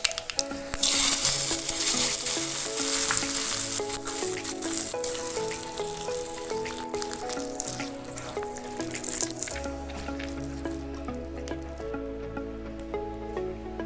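A tempering of dried chillies in hot oil poured into jackfruit seed curry, a loud hissing sizzle that settles into softer bubbling under background music.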